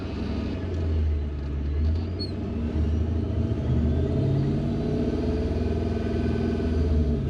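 A supercharged Toyota Hilux with a 1UZ engine drives off at light throttle, a loud, low, steady rumble that swells gently and stays close throughout.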